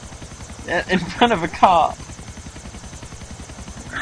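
A helicopter in GTA 4 keeps up a steady, rapid rotor thump throughout, a continuous chopping drone running under a man's brief speech.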